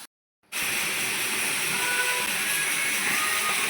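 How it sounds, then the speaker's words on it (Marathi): Onion frying in a pan while cooking a drumstick-pod vegetable dish, a steady close hiss of sizzling oil starting abruptly after a brief silence and continuing evenly. "ते इकडे माझा कांदा असा फ्राय झालेला आहे बघा"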